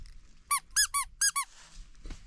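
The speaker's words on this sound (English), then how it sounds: "Squeak." Five quick, shrill, high-pitched squeaks ring out in a rapid cluster at the start of a motorbike ride through the mountains, followed by faint low rumbling and a soft thud.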